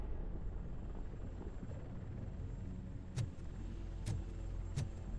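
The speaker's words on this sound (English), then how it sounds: "That's a TV helicopter." A TV news helicopter in the RoboCop Rogue City video game drones as a steady broadband rotor rumble, with a few sharp clicks or impacts near the end and no speech.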